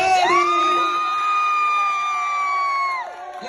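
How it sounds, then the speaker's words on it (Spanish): Family members cheer and shout for Adamari at a family reunion, with long sustained high-pitched yells and whoops from several voices, loud and close, ending abruptly after about three seconds. "Palmas y gritos para Adamari."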